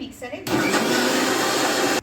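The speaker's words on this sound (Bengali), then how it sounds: "এখন আমি এটা মিক্সারে ঢেলে পিষে নেব, পেস্ট করে নেব।" A mixer grinder blends cooked tomatoes for soup, starting abruptly after a brief voice and roaring steadily and loudly close by before cutting off.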